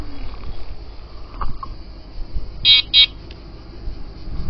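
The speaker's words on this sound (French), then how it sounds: "Il me semblait que ça klaxonnait plus fort." A weak, not very powerful horn gives two quick, high beeps in close succession over a low background rumble.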